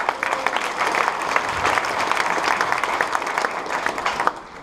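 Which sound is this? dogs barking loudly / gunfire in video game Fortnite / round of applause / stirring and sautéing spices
round of applause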